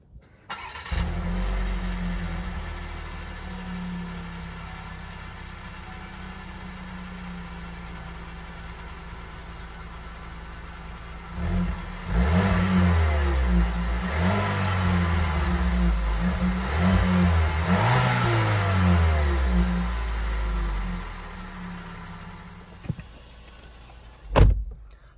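A 2021 Cadillac XT5 idles with a low, steady exhaust note, then a brief quiet before it revs several times in rising and falling swells, close and loud, settling back before a final clunk.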